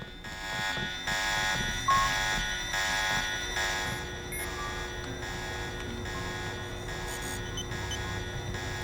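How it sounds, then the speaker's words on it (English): In the video game Deus Ex Revision, a security alarm has been set off and pulses in a steady, evenly spaced electronic beeping that repeats continuously at moderate volume with no speech over it. "Oh, she triggered the alarm."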